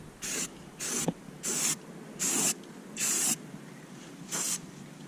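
A spray gun sprays paint or coating in an RV bathroom in six short bursts of loud, close hissing, each lasting about a third of a second with brief pauses between them.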